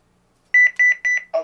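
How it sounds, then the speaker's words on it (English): Keypad tones from a telephone's pound key on a 1992 CareTaker Plus home automation system: six short, evenly spaced beeps, close and clear, followed by a brief burst of a different sound at the end. "we can press pound on the telephone"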